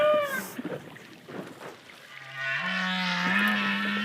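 A male humpback whale in courtship sings, captured underwater by hydrophone near Tahiti: a short high wavering call at first, then a quiet gap with faint clicks, before a sustained low tonal moan slowly swells in volume.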